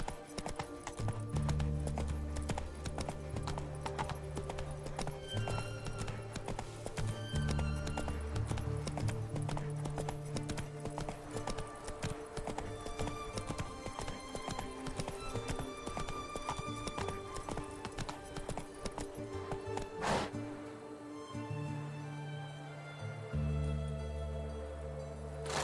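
Hooves of a horse galloping in The Witcher 3 pound in a steady, loud clip-clop rhythm that runs almost throughout, briefly breaking off before resuming near the end, with a whinny-like cry mixed in.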